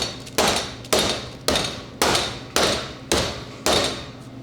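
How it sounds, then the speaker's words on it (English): A mallet pounds a fish fillet to tenderize it, striking eight times in a steady rhythm, each a loud, close, heavy thump that fades before the next blow. "We're gonna beat it. It's gonna cut the fiber, make it even more tender."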